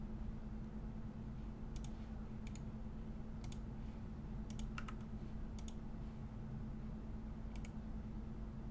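Folder name being typed on a Mac computer keyboard, faint scattered key clicks in short bursts, about eight taps over a steady low room hum, with no voice.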